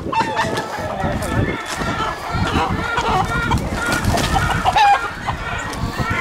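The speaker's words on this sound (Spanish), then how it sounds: "Aquí los gallos, aquí se crían aquí muy sanos." Roosters crow and hens cluck continuously on a farm in a high, sometimes snowy mountain setting, the birds close and loud with a voice talking over them now and then.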